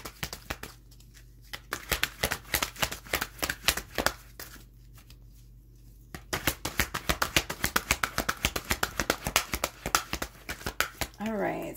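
An oracle card deck is handled and shuffled, giving rapid, close riffling flicks in repeated bursts with brief pauses between them, while a person talks over parts of it.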